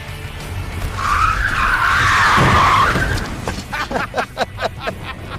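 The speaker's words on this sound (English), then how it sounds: "The key to doing a Rockford is to nail it in reverse." A car spins around in reverse in a Rockford turn, its tires skidding in a loud, sustained squeal that swells for about two seconds and then breaks into choppy bursts as it comes around.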